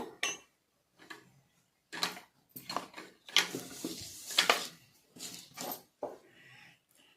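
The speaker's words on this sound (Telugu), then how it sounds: "ఇది అన్నీ వేసి మనం మిక్స్ చేసుకొని మనం బాగా వచ్చి కలుపుకోవాలమ్మా" A homemade hair dye paste is stirred in a bowl, making a series of short scraping and clinking strokes with pauses between them, close and fairly quiet.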